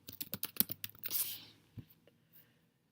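A search is typed on a computer keyboard as a short burst of close key clicks, followed by a brief rustle, then a few faint taps before quiet.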